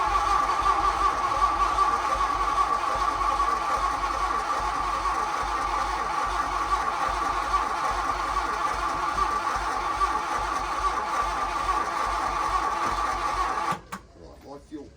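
The starter cranks a Volkswagen Golf GLi Karmann cabriolet that has sat parked for 31 years. It makes a steady, rapid, whirring churn that runs continuously for about fourteen seconds without catching, then stops.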